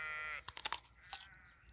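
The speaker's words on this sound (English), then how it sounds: "Now, let's see if the sheep will come and eat from our hands." Sheep on a farm eating feed from people's hands, with a close bleat at the start followed by quick crunching and nibbling bursts and a short second bleat, fairly quiet.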